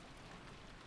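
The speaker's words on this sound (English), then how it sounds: "Ugh, this rain's incredible." Heavy rain beats steadily against a window during a storm, a dense, even wash of drops with no pauses, alone and fairly faint.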